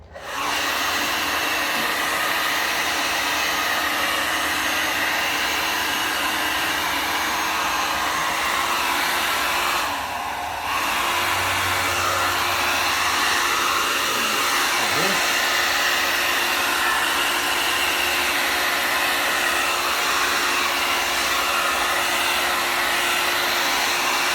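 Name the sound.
hair dryer blowing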